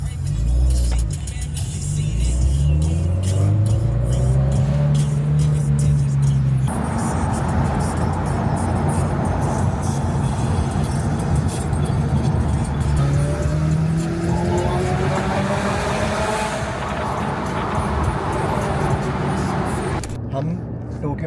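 Cars on a Tokyo drift driving tour, including a Mitsubishi, rev and accelerate loudly and continuously, engine pitch climbing through gear changes for about twenty seconds.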